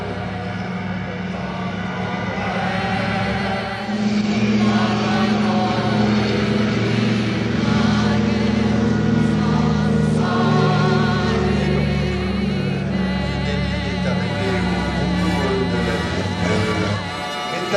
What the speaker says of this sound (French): On fait décoller les deux DC-3 du prochain plateau.